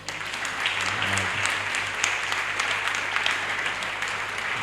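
Sustained applause from an audience at a religious conference, steady and fairly loud throughout, with a low hum running underneath and no talking.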